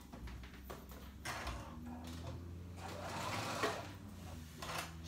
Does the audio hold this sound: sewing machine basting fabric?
yes